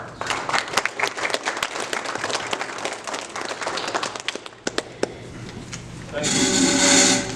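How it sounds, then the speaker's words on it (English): A school board meeting audience gives a round of applause, with sharp, scattered individual claps that thin out toward the end; then a voice speaks over a brief swell of noise. "would please join me in congratulating them with a round of applause"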